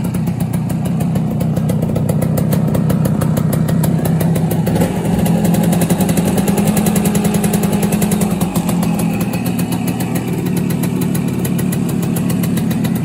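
A 1971 Kawasaki G3SS 90cc motorcycle engine idles steadily with a fast even putter and a constant buzzing drone that dips slightly partway through, loud and close.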